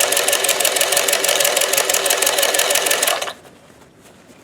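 A Singer 431G sewing machine fitted with a Zigzagger 161158 attachment runs at a steady, rapid stitching rhythm for about three seconds, then stops abruptly, leaving near silence.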